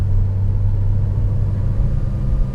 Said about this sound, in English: changing gear.